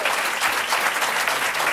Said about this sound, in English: Let's give Kathy Burke-Gonzalez a round of applause.